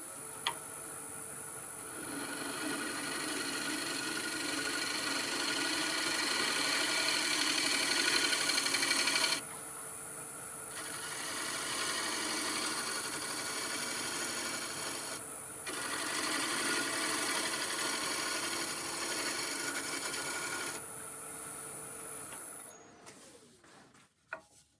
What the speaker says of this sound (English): I'll try a shear scrape, see if that works.